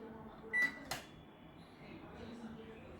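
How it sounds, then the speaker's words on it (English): A microwave oven's control panel gives two short electronic beeps as the power is set to 360 watts, fairly faint in a quiet kitchen with low background hum afterward. "Now we will set the watt to 360 watt microwave"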